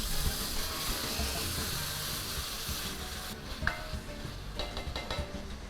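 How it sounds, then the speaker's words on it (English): Chopped tomatoes stir-fried in a pot for egg biryani, with a steady soft sizzle and occasional scraping clinks of a utensil against the pot, close and continuous. "Stir fry this for about 2 minutes, and to this add tomatoes chopped."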